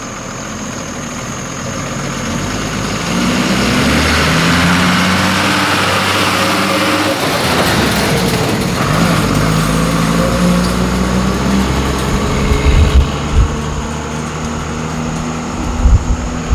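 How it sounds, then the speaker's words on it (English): Army vehicles rolling through a village, a steady low engine rumble with heavy diesel drone that holds loud and continuous, shifting gears midway and ending with a few sharper knocks and clatters near the close. "This is the sound of army vehicles that's passing through this village."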